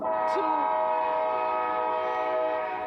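A train horn sounds as a long, steady, loud multi-tone blast that holds for about three seconds without a break. Another sound briefly overlaps it near the start.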